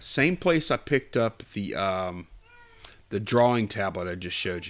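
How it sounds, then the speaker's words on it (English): A pet cat meows and howls in a room, its cries rising between and under a person's steady talking, with a clearer drawn-out yowl in the middle. "Sorry for the cat meowing."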